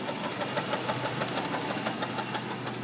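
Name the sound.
1998 Jeep Wrangler TJ engine knocking noise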